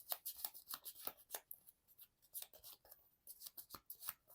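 A deck of Marvel Champions game cards is shuffled close up, with quick soft riffling and slapping bursts repeating in an uneven rhythm, quiet and alone without talk.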